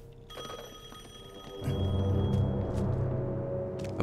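An old-style telephone bell rings in Assassin's Creed Chronicles Russia, a repeated bright trill heard over low game ambience that grows into a heavy rumbling drone partway through.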